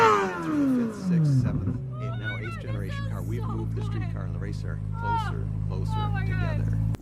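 A Corvette C8 Z06 with a flat-plane-crank V8 drops from a high rev to a steady, deep idle that hums on for several seconds, loud and close, while people talk over it.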